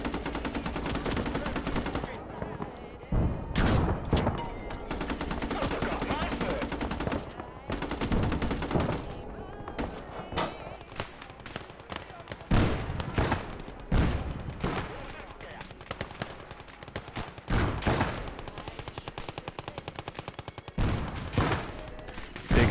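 Machine guns rattle in a video game battle, long automatic bursts and scattered gunshots that start and stop in repeated loud volleys, with players talking between them.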